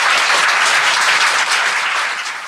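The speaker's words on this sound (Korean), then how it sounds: "이분한테 좀 박수 좀 부탁드립니다" An audience bursts into loud, dense applause that holds steady, then begins to taper off near the end.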